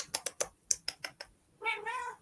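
Several quick clicks or taps come first, then a cat gives a single drawn-out meow close by, with no talking.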